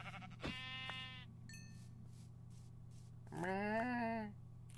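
Two sheep bleats sound in Minecraft Bedrock, a short nasal call followed by a longer wavering one, fairly close over a low steady hum, with a small chime between them and no talk.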